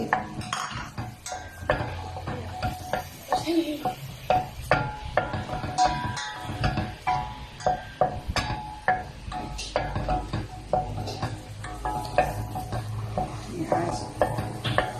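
Garlic sautés in a pan with a continuous light sizzle, nearly buried under frequent clinks and scrapes of a utensil stirring against the metal, close and busy throughout.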